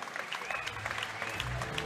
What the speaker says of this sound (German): Ihr Applaus bitte für beide Kämpfer.